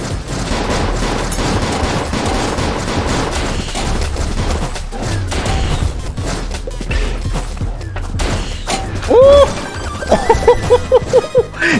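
Gunshots in the video game Nifty Island, a dense loud barrage of shots and impacts throughout, ending with a quicker sequence of sharp repeated bursts near the end.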